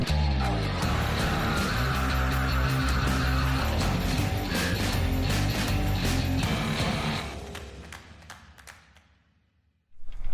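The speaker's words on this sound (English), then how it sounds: "this is the rotor, and that is the chaffer." A combine harvester's rotor and chaffer run during a bean harvest, a loud continuous mechanical churn with rattling, ratcheting gear noise that fades away near the end before a sudden burst returns.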